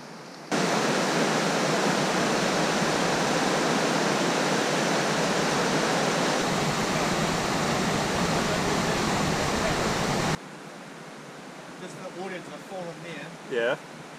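A river in Fiordland rushes in a loud, steady, broadband roar of fast water for about ten seconds, then cuts off abruptly, leaving quieter outdoor ambience with a few voices.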